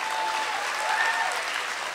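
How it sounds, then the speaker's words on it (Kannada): Warm, sustained applause fills the room at a Kannada stand-up comedy show, with many hands clapping evenly and fairly loudly from start to finish. "ದಯವಿಟ್ಟು ಅವ್ರಿಗೊಂದು ಚಪ್ಪಾಳೆ ತಟ್ಟಿ"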